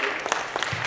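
Audience applause at a members' education meeting, a brief burst of steady clapping from a seated crowd at moderate distance.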